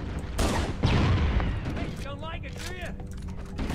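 Dense bursts of gunfire in the video game Halo: Combat Evolved, rapid overlapping shots mixed with game effects and chirping energy sounds, continuous and loud throughout.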